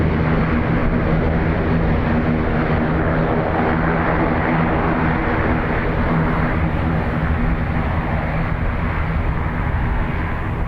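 An Aer Lingus jet taking off from Dublin Airport bound for Birmingham, a loud continuous engine roar with a low droning hum, sustained and steady without speech.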